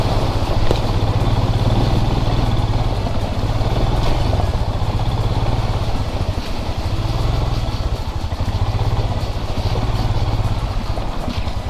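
A motorcycle crossing a river at the foot of a mountain on Marilaque, its engine droning loud and steady throughout with rattling clatter.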